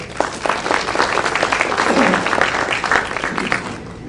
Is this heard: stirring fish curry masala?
no